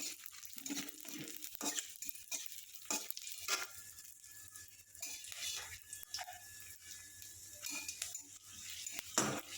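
Dried red chili sizzles in hot oil alongside garlic, a faint crackling fry with scattered pops and stirring scrapes scattered through it.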